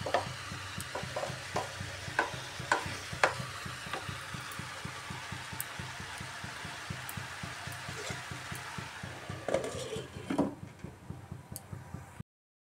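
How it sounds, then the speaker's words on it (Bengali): Chunks of ash gourd sauté in a pan, with a soft, low sizzle beneath a steady series of close spatula scrapes and taps, ending with a few louder knocks against the pan. "এইভাবে একটু সময় কষিয়ে নেব চাল কুমড়োটাকে।"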